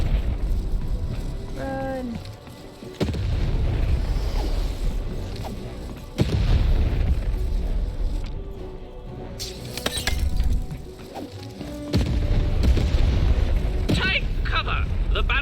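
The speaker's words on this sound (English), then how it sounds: "Shoot the button to fire the cannon." Cannon blasts and explosions in the video game Lost in Random boom repeatedly at intervals, loud and close, mixed with game music while a player talks and a game voice shouts.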